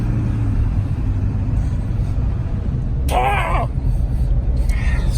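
A Ford 7.3 diesel truck with a worn engine run low on oil cruises on the freeway, its steady, loud engine and road rumble filling the cabin throughout, with brief higher whines and voices breaking in over the drone.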